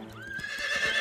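A cartoon horse gives a short, bright rising whinny that holds its pitch, close and clear, with a faint hoof clatter beneath it.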